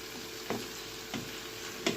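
Chicken with onions, garlic and vegetables sizzling in a pan, a soft steady fry with three brief stirring scrapes spaced evenly through the sizzle, no voices.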